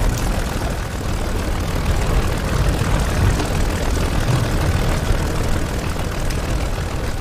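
A Focke-Wulf FW-190 D-9 Dora's piston engine runs steadily in DCS World during a cold start-up, a continuous loud propeller drone with deep throb and no talk over it.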